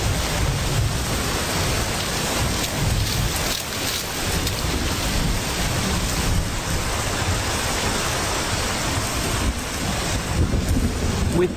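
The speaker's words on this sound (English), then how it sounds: "we've been waiting for the rains, and here they are" Heavy rain pours down steadily with low rumbling thunder rolling underneath, a dense wash of noise throughout.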